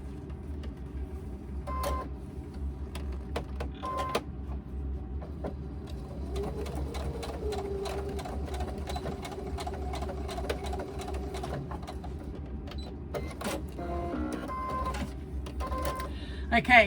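A sewing machine steadily stitches a tab onto a laptop bag, its dense mechanical whir running continuously at close range with occasional faint clicks and a low hum beneath.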